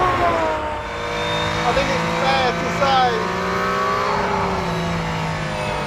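A Mercedes-AMG hybrid race car with a 1.6 litre turbo V6 and four-wheel drive runs on a track, its engine tone rising and falling steadily while someone speaks over it.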